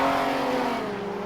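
Mitsubishi Sigma modified production race car at a Queensland speedway in an evening race, its engine droning loudly and steadily with a sustained harmonic roar, close and alone.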